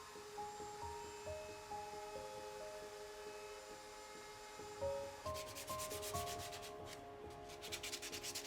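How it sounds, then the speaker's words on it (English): Steady sanding on a wooden toy car to remove router burn marks, a continuous rubbing hiss that grows rougher and more rhythmic toward the end, close up with no voices. "A little bit of sanding gets rid of the burn marks"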